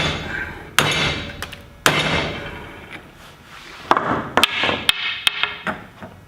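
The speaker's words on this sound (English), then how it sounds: "And I'm going to hit right here and it should drive it out." Sharp metallic hammer strikes drive a worn universal joint out of a driveshaft yoke held in a vise, with several loud ringing blows at irregular intervals and lighter taps between.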